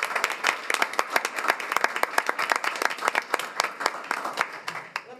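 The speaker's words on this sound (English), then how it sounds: "Let's give them a round of applause." Applause from the audience at a school board of education meeting, a steady patter of many hands clapping at close to moderate range, with no talk over it.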